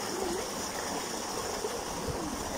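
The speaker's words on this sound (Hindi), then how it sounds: "हाँ हाँ तो ये पानी डायरेक्ट डायरेक्ट आता है ना" Water rushes steadily straight from a source in a village near Ghaziabad, a continuous close gushing flow like a stream with no break and no voices.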